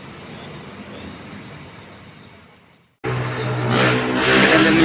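A new Scania K360 bus has its engine started; after a low rumbling lull the engine abruptly catches, then runs loudly and steadily, close by, with no talking.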